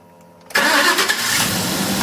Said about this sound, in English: And the truck starts and runs as it should.